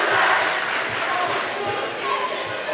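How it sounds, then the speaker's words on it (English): Fremont's home crowd at a high school basketball game against Ludington cheers and shouts loudly in a dense, sustained roar, with a ball bouncing rhythmically on the gym floor underneath. "Fremont's crowd is getting fired up here"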